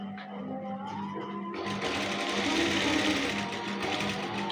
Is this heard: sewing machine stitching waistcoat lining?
yes